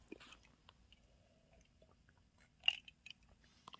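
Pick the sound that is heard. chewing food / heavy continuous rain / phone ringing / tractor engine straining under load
chewing food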